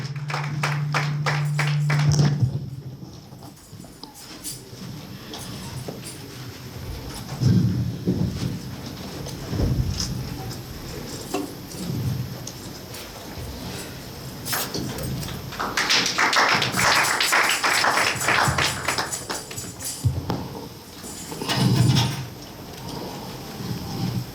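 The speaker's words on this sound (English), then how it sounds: "Please, with a clap offering" A church congregation claps during a Sunday worship service, bursts of dense, overlapping hand claps rising and fading at moderate distance amid room noise, loudest in a sustained stretch near the middle.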